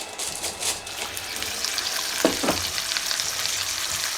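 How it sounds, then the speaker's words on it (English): Bacon sizzles inside a 3D printer filament dehydrator used as a cooker, a steady close crackle and hiss with a few brief louder pops. "You should almost immediately begin to hear that glorious sizzle of cooking bacon"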